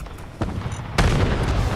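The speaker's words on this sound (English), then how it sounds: "Oh boy, everybody is stepping on all the mines." Landmines go off in Fallout 76: two heavy, booming blasts close together, the second louder with a long low rumbling tail.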